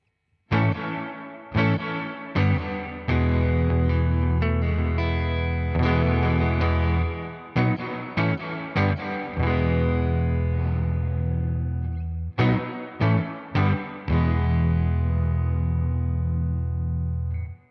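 Electric guitar played through a Strymon blueSky reverb pedal, loud and continuous: repeated strummed chords and picked notes with long reverberant tails swelling after each attack, in several phrases with brief gaps, no talking.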